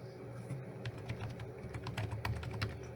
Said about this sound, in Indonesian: terus kita ketik IP route